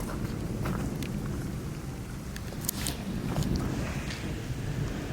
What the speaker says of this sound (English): Me and the thunderstorm have this arrangement where he waits until I'm out